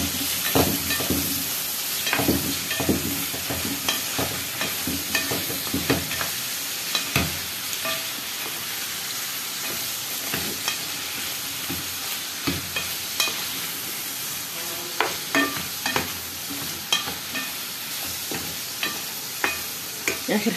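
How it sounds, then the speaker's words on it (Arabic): Lamb liver, kidney and heart sizzle steadily in a hot pan while a utensil stirs them, with repeated scraping knocks against the pan over continuous frying hiss. "هبتدي اقلب زي ما احنا اتعودنا"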